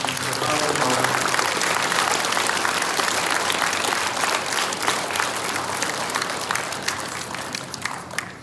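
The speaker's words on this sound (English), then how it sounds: "Would you please show a round of applause for congratulations to Harlan Martin." A hall of fame induction crowd at the 2024 Shawano Athletic Hall of Fame gives a loud, sustained round of applause for an inductee, dense clapping that fades near the end with some voices beneath.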